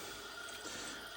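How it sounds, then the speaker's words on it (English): A small trickle of water runs steadily while a squid is cleaned and its skin slid off, a soft, continuous faint pour with no talk. "So what I'd do is just a small trickle of water, nothing too important, and then just slide the skin off."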